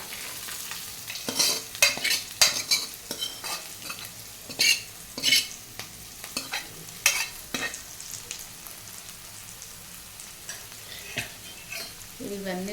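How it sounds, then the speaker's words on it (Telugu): Boiled sammakaya fruit pieces are tipped into a pan and stirred while frying: bursts of scraping and clattering spoon-on-pan strokes come at irregular intervals over a quiet sizzle. "ఇప్పుడు మనం ఉడకబెట్టుకున్న సమ్మకాయ ముక్కలు వేసేసుకుంటున్నామండి."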